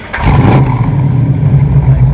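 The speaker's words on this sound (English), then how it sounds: "what's big block Mopar sound like when you're at a car show and you start it up" A 1970 Dodge Challenger R/T convertible's Magnum 440 big-block V8 catches with a brief rising rev, then settles into a loud, steady, deep rumbling idle close by.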